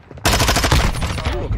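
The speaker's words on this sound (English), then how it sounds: "I'm taking fire." Rapid in-game gunfire in a first-person shooter, a loud dense burst of automatic shots rattling continuously for over a second after a brief quiet start.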